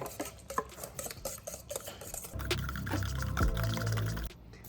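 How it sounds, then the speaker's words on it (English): Oat pancake batter with eggs and vanilla extract is whisked in a bowl, first as quick tapping scrapes, then as a louder, steady, wet swirling close by, with no talk. "And half a teaspoon of vanilla extract. Whisk it all together."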